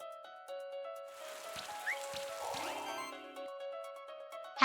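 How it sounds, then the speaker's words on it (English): An acid rain attack in the Monster Sanctuary video game produces a soft pattering, splashing wash of rain-like noise over a sustained musical tone, building through the middle and ending with a brief sharp hit. "I wanna go with the acid rain."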